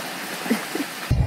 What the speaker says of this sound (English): Although the sun is already there, the rain hasn't stopped.